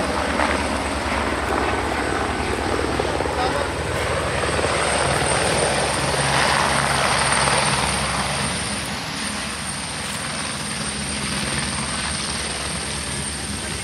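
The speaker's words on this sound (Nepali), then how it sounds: "अहिले भर्खर हेलिकप्टर गएको थियो" A helicopter passes over a district school area in Dharan, its steady rotor and engine roar loud and continuous, swelling toward the middle and easing slightly near the end, with no talking.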